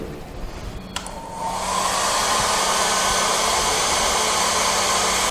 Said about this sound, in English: And dried with hot air.